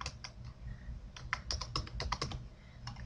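Fingers type on a computer keyboard in a quick irregular run of close, crisp key clicks over a low background hum, with no talking.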